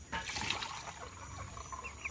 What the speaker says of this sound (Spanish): Aquí le echamos al agua,